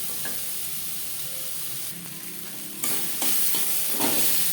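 Onions fry in a pan for a fish curry with ridge gourd, a steady sizzle under repeated scraping stirs that grow louder toward the end, with no talking.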